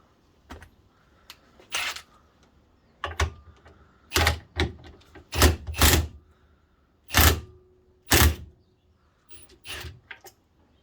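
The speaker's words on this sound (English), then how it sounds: "Get your impact gun, or if you don't have an impact gun, you can use a power bar or similar." An impact gun rattles in a series of short, sharp bursts with brief pauses between them as it works the pulley off a Toyota alternator clamped in a vise, set against a quiet workshop.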